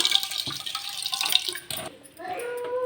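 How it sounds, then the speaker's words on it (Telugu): Water pours into a cooking pot as three glasses are added for making ragi mudde (finger millet balls), a steady splashing stream with some drips, close by and fairly loud throughout. "ఇప్పుడైతే ఇందులో ఇక్కడ త్రీ గ్లాసెస్ వాటర్ అయితే వేస్తున్నా అండి"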